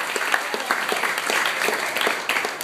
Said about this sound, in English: Clap it up, yeah, good.